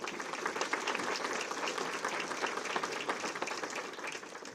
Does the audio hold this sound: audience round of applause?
yes